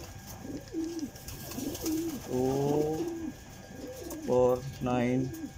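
Racing pigeons at a pigeon derby race coo in a few short, soft throaty phrases, with a slight pause between them, over a faint outdoor background.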